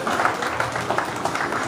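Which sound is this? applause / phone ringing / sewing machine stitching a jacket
applause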